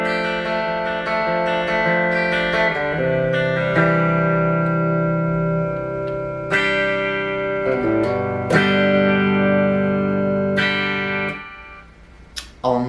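Gibson Les Paul Classic 2015 electric guitar played through its hot 57 Classic Plus bridge pickup, ringing sustained distorted chords and notes with several changes, loud and alone before the sound cuts off near the end.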